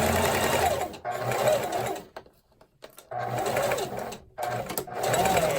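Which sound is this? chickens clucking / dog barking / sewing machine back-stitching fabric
sewing machine back-stitching fabric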